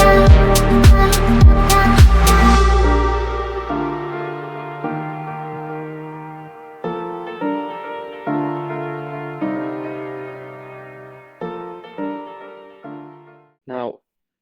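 A 3D printed violin bowed unskillfully, starting with a few plucked or struck notes and then moving to scratchy, uneven bowed strokes that fade and restart in short phrases, close and alone with no talk.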